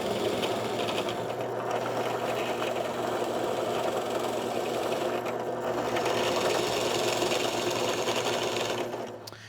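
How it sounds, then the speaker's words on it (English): A Forstner bit countersinking a pre-drilled hole in wood for a lazy Susan gives a steady, loud motor whine with a droning hum, running continuously and briefly easing as the cut ends. "I'm going to countersink the opposite side with a Forstner bit."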